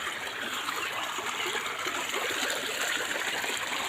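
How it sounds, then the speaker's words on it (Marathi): A swollen village stream rushes past after rain, a continuous gushing and splashing of flowing water, close and steady with no talk. "किती पाणी येतं बघा।"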